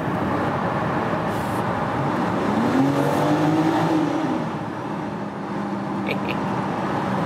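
A 510 hp 2020 BMW X4 M Competition drives through a tunnel, its engine a steady, loud rumble with a rising rev swell in the middle, echoing off the walls with no talk.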